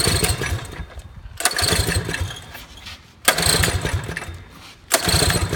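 A Predator 212 small engine fitted with a Tillotson carburetor roars up loudly in repeated bursts, dropping out between pull-start attempts, three surges in a row with no talk.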